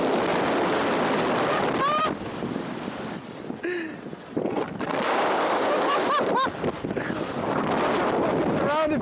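Strong wind buffets the microphone on a cloud-covered hillside while hiking up Raise in extreme weather, a loud steady roar with gusting surges, under bursts of excited voices and exclamations.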